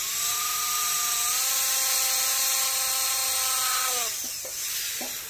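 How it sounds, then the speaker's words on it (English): High-pitched whine of a dental profiling drill cutting bone during a sinus lift osteotomy, steady and close for about four seconds before winding down, followed by a couple of brief faint touches. "after I've used that initial profiling drill, there's no tendency for the drill to walk at all"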